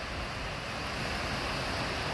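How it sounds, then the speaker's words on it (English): Water on the Great Miami River spills over a man-made waterfall and runs on like a stream, giving a soft, steady rushing wash that never changes over a brief moment. "It looks like a mountain stream."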